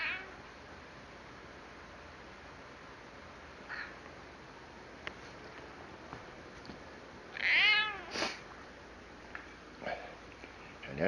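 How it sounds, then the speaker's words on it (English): A kitten meows a few times, small high-pitched cries with one clearer meow near the end, faint against a quiet indoor background. "That's Jill, one of the kittens"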